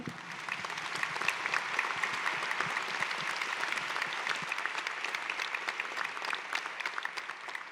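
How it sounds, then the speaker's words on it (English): Audience applauding steadily for the governor of Oklahoma at a State of the State event, a dense, sustained round of clapping with no speech over it. "I'll invite the audience to join me in a round of applause for your service to the state of Oklahoma."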